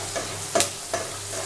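Seven or eight garlic cloves and a spoonful of cashews hit hot butter for prawn makhni, giving a quick close sizzle with two scraping stir strokes over barely a second and a half.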